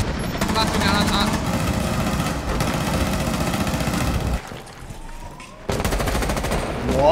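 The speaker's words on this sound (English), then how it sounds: "He's shooting, he's shooting." Rapid video game gunfire rattles almost continuously in a first-person shooter, loud and close, breaking off briefly before resuming, with a voice talking over it.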